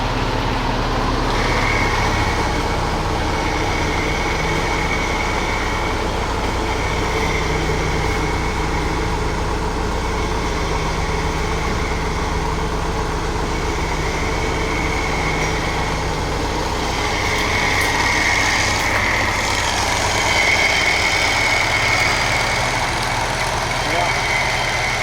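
A Badland electric winch runs on an M38A1 Jeep, a steady whirring motor tone with a strained mechanical hum, accompanied by the idling engine's low drone, alongside some talking.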